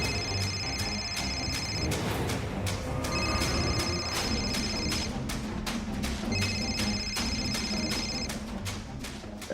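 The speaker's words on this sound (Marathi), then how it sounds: "फोन करायला लागतोय बायकोला व्हिडिओ कॉल." A telephone rings in repeated electronic bursts for a video call placed to a wife in a Marathi domestic drama, with three distinct ring bursts separated by pauses, set against a low background music bed.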